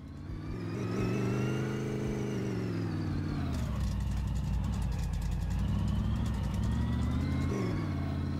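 A customer's car drives along a dirt track road, its engine droning steadily with rising and falling revs and a brief gear-change dip midway, close and continuous throughout.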